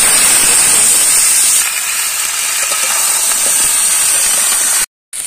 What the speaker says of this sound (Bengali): তেলটার মধ্যে পটলগুলো ছেড়ে দেওয়া হলো।